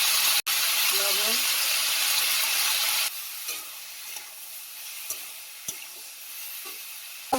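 Potatoes frying with onion, green chillies, turmeric and salt in a home-kitchen pan give a loud, steady sizzle for about three seconds, then a quieter sizzle with scattered stirring clinks.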